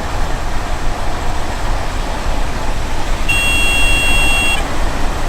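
Inside a train cab in Train Sim World 2, a steady high warning buzzer sounds for about a second and a half over a continuous loud engine and rail rumble, with no talk.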